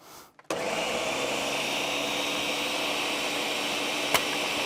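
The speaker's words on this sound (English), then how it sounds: "we will blend it one more time to again make it nice and smooth" A blender whirring ranch dip until smooth, a loud steady high motor whine that starts abruptly after a short pause and holds evenly to the end, close by.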